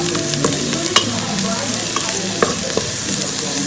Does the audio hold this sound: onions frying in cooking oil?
yes